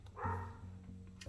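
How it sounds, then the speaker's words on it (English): A nearby dog gives a short bark or yip, brief and somewhat muffled, over quiet room background. "sorry about that dog barking."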